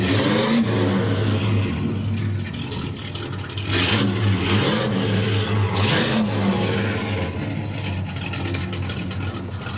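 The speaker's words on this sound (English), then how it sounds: "Fantastic sounding dual exhaust." A restored 1971 Pontiac GTO with dual exhaust revs hard, deep rumbling bursts rising and falling over a steady idle, loud and close.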